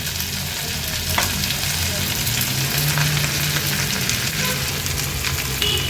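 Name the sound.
potato pieces frying in oil with roasted peanuts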